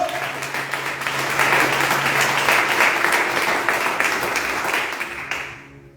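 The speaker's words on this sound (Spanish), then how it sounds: "Dale un aplauso a Jesucristo." A church congregation claps together in a dense, steady burst of applause during a sermon, swelling, holding for several seconds, then fading out quickly.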